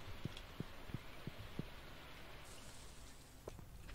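Rain in the game Stardew Valley, a soft, faint steady patter with a few light drop-like taps, heard alone.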